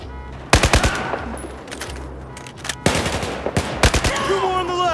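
Battlefield 4 campaign gunfire in Baku: sharp bursts of automatic weapon fire crack in clustered volleys, with several loud close shots and quieter distant rounds amid an ongoing firefight, no speech.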